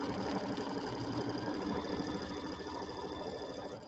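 An embroidery machine stitches an applique placement line on a Kimberbell table topper, a close, steady rapid mechanical chatter with a buzzing hum and no talk.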